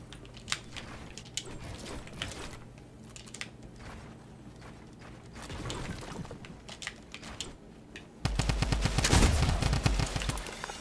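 Gunfire in the Fortnite video game on Nintendo Switch, a few sharp shots scattered through busy game sounds, with a denser burst of loud firing near the end.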